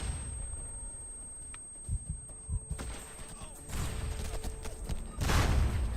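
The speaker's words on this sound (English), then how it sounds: "Oh, don't like the sound of these nades." Grenade explosions in SOCOM II, the video game, come as several muffled bursts and thuds scattered through the stretch, building to a louder, broader blast near the end over a steady game-noise background.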